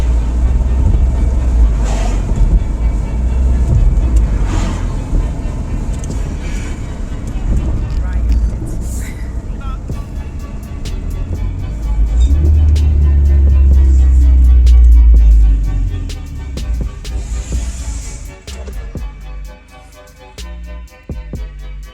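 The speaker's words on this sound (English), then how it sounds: "So I'm gonna try to see if I can get a 1-2-3 shift in." A 2009 Acura RDX with a secondary catalytic converter delete accelerating hard through first, second and third gears, heard from inside the cabin as deep engine drone that rises, drops at the shifts, then swells again, with some talking.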